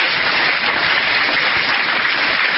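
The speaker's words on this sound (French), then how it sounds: "Everybody clap for Jesus." Audience applause at a church gathering in Zürich: steady, dense clapping from a large crowd, loud and continuous throughout with no talk.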